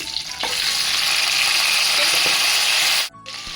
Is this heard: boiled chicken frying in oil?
yes